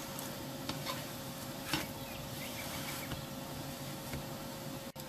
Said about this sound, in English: I will cook the paratha like this on medium-high heat,